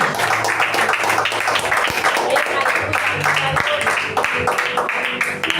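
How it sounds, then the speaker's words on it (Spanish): A church congregation applauding loudly, dense sustained clapping from many hands filling the room, with voices calling out over it. "Den un fuerte aplauso al Señor"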